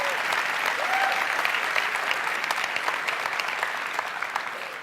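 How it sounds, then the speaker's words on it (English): A large keynote crowd at Facebook's F8 2018 developer conference claps and cheers for Lola, thick continuous applause that stays loud before easing slightly toward the end. "People are cheering for you, Lola."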